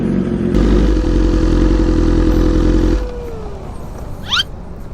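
A BMW big bike motorcycle engine runs loud and close with a steady drone, then drops away to a quieter idle, followed by a brief faint chirping sound.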